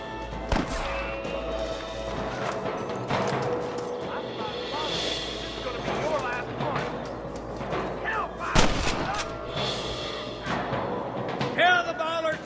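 Gunfire from the video game Red Dead Redemption: several sharp shots at irregular intervals amid game noise, with character voices talking in between.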